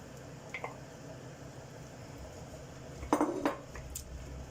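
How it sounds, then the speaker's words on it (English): Potatoes tumble into a stew pan of meatballs with chorizo and pimenton, giving a brief cluster of soft clatters and clinks around the pan, with a lighter knock earlier and quieter scrapes afterward. "Now I'm going to add the potatoes in."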